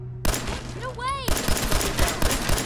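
Fallout 4 gunfire rattles in quick, sharp shots, a short burst and then a steady string of reports close by, with a brief swooping electronic tone in between and a voice speaking briefly.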